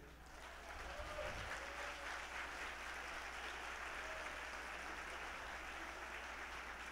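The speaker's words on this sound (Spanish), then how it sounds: "A esas personas hay que aplaudirles" A seated audience at an Atomy company marketing-plan meeting applauds first-time attendees, giving a sustained wash of clapping that builds within the first second and holds steady, fairly distant and faint.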